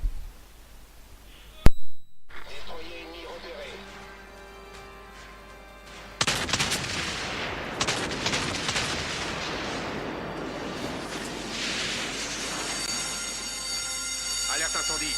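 Warship main-gun salvos in World of Warships aboard the battleship Texas: a sharp loud report, then a heavy booming broadside with rumbling aftermath and dense clattering gunfire, over game music, with a voice talking.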